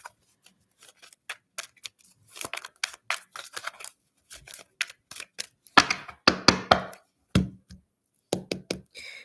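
Tarot cards being shuffled by hand, a close, quiet run of irregular crisp flicks and taps in short bursts, with a denser flurry of snaps toward the end.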